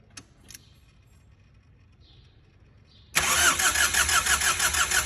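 A diesel engine with a hard-starting fuel pump problem cranks briefly and catches, jumping abruptly from near silence to a loud, close, steady clattering idle after a few faint clicks.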